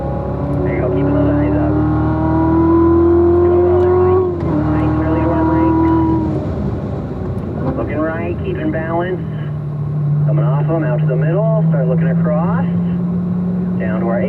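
A Corvette on a racetrack accelerates hard with wheel spin, its engine note rising and falling through gear changes and settling into a sustained mid-pitch drone, while an instructor talks over it.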